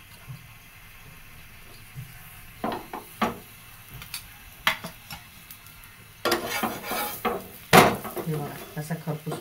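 An aloo paratha roasts in ghee on a griddle with a soft, low sizzle. Spatula presses and scrapes make irregular clattering bursts that grow busier toward the end, and a voice is heard at times.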